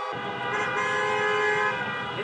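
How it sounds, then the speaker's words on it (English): A car horn blares in a loud, sustained, steady tone as #ReopenNC demonstrators honk while driving around the block near the intersection of Wilmington and Jones Streets. "making a point by honking their horns and driving around the block a few times"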